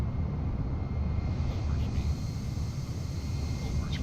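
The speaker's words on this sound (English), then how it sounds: "Hear the wind." Wind rushing past an airplane in flight in Microsoft Flight Simulator, a steady low roar blended with engine drone that holds constant and loud, with a voice talking faintly over it.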